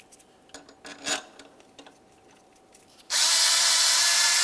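Power tool tightening intake bolts on a 2003-2011 Mercury Grand Marquis engine, a few light clicks and taps first, then a loud steady drill whir starting abruptly and running to the end, close, no talk.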